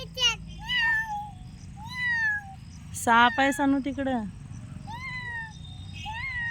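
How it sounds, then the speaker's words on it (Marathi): A cat gives several drawn-out meows at close range, spaced apart with pauses, while a person talks briefly in between. "मांजर आली तिकडे"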